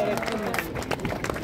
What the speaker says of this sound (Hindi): जोरदार तालियां एक नेपाल के लिए